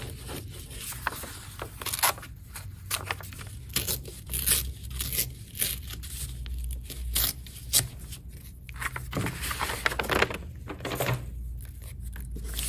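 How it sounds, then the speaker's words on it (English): A sheet of paper is crumpled up by hand during a craft demonstration, giving dense crinkling and crackling bursts that come and go in irregular handfuls, close and steady, over a low background hum. "I'm going to crumple it up and then flatten it out again"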